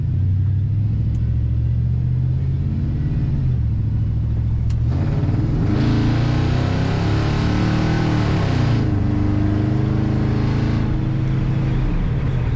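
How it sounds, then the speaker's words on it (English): A 1957 Chevrolet 3100 pickup truck's engine rumbles loudly up close, then revs and pulls harder as it accelerates, with the pitch climbing and dipping through the gears in a steady, continuous drone. "Great acceleration from this truck."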